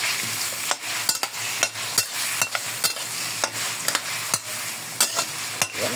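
Beef stew ingredients for mechado, including carrots and tomatoes, frying in a pan: a steady close sizzle with a spatula scraping and tapping the pan at a brisk, irregular pace.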